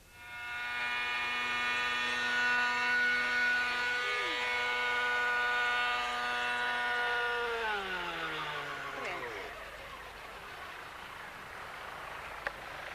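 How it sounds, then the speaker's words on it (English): A Hirobo Jet Ranger radio-controlled model helicopter whines steadily for several seconds, its pitch then dropping away as the motor spools down, loud and close. "using this Hirobo Jet Ranger helicopter with a spike attached to the body"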